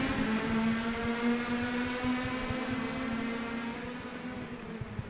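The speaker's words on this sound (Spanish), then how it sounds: "escuchen ustedes los motores de la arrancada de la segunda carrera de esta segunda fecha" Formula race car engines roar together at the start of an iRacing sim race, a dense, steady, loud drone of overlapping engine tones that holds throughout without a break.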